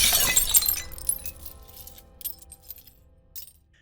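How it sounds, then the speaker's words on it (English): Something smashes on a stone floor, a loud crash at the start followed by scattered tinkling fragments that settle and fade into sparse clinks. "It shattered instantly"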